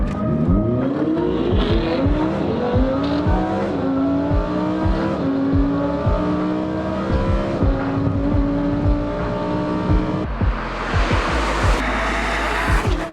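A BMW M5 F90 sports car races hard and close, engine revving up and down through gear shifts with tire squeals, loud and continuous throughout.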